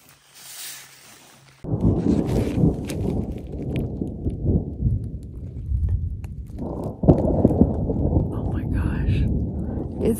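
Thunder rumbles along the Continental Divide Trail, a deep, continuous low roll that swells after a quiet start and surges again midway, loud and sustained with no one talking.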